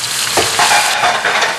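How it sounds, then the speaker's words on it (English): Sambal hits hot oil in a wok with a loud, continuous close sizzle and crackle, while stirring adds brief scraping accents. "now I've got some oil heating in the wok. And I'm going to add my sambal."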